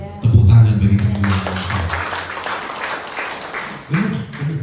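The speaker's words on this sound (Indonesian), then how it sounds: "Tepuk tangan bagi Tuhan." A church congregation at a Sunday service claps together, a few seconds of crowd applause following a brief spoken line, with voices returning as the clapping fades.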